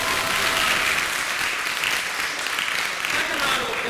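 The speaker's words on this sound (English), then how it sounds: "Can we give them a big round of applause?" Dense, sustained applause from a crowd at a hypnotist show during a high school project graduation event, a steady wash of many hands clapping at close range, even in loudness throughout.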